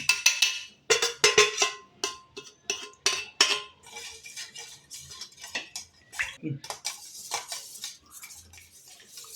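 A spoon stirs coriander powder, salt and chili powder into pani puri water, producing repeated close metallic clinks and taps against the vessel in an uneven rhythm, a brief murmur of voice partway through.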